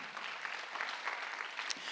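A church congregation at Sunday worship claps together, a soft, even patter of many hands heard faintly and fairly distant, continuous for the short stretch.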